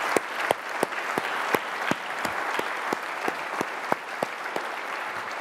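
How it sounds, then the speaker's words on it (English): Audience applause at a Michigan veteran hiring event opened by the governor, a dense sustained clapping from a crowd with sharp individual claps standing out at a steady rhythm throughout. "Let's give GM a big round of applause for their great work."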